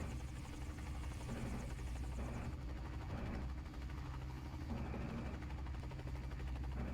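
A UH-1H Huey helicopter in the video game Microsoft Flight Simulator 2020 makes a steady, loud, close rotor and turbine drone with a rapid, even blade beat that continues throughout.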